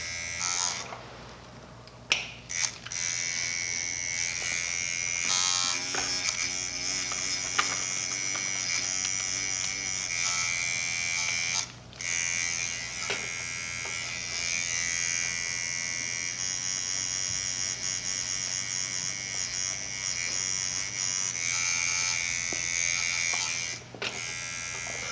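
Electric tattoo machine buzzing steadily while shading, a close, continuous high-pitched whine with faint clicks and handling noises underneath, running throughout without talk.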